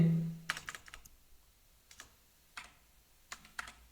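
Computer keyboard typing, several short bursts of keystrokes separated by pauses, close and fairly quiet, with no talking over them.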